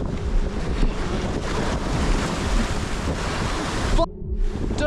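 Ocean waves and strong wind buffet a boat at sea, a steady roaring wash of surf and gusting wind noise on the microphone that drops out briefly near the end before returning.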